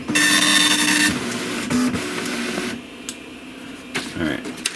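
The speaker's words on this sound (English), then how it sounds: "in this setting, the printer is using draft mode to print" A Tandy color dot-matrix printer runs in high-speed draft mode, its print head buzzing in steady bursts and carriage clicks close by, while a person talks over part of it.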